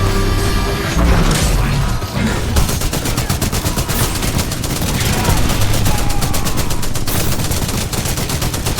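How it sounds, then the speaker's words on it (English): Titanfall 2 combat as soldiers shoot at an IMC Reaper robot: loud, dense automatic gunfire in rapid overlapping bursts lasting throughout, with clanking mechanical impacts and occasional voices beneath. "Yeah, they're already firing at it."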